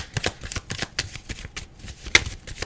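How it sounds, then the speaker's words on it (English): Tarot cards being shuffled by hand, a close run of quick riffling and flicking bursts in an irregular rhythm, with no speech. "I'm going to pull a card for the past version and pull a card for the new version of you"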